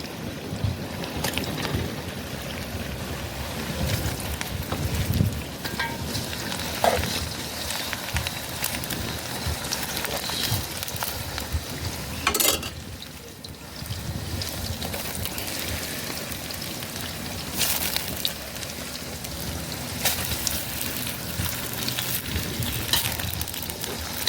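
Meat added to browned onions for plov in a pot over a campfire, a dense, close sizzle running steadily throughout, broken by occasional crackles and knocks.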